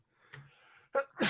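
A single sharp, loud sneeze bursts out at the end, after a few soft breathy sounds and a quick intake of breath.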